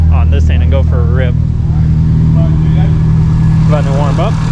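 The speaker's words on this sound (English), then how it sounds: "Ryan got his car started up right now." A car engine running loud and close with a steady low rumble throughout, while people talk over it.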